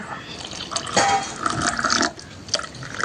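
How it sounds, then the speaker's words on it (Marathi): Water splashes and pours into a glass of hibiscus sherbet in short bursts, close and clear, with a brief trickle at the end. "पाणी घालून घेऊया"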